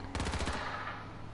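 A short rapid burst of automatic gunfire in the video game H1Z1, about half a dozen loud cracks in quick succession fading into a brief echoing tail.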